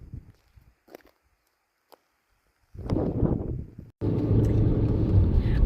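A car cruises through desert country near Petrified Forest, a low engine and road rumble rising after quiet stretches and settling into a steady, close drone, with a few soft thumps early on.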